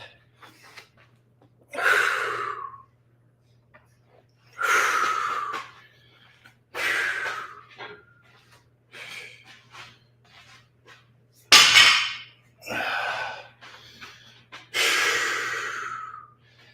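Heavy, forceful breaths during a dead hang, a series of loud, rasping exhales and gasps spaced a couple of seconds apart, close up, over a faint low hum.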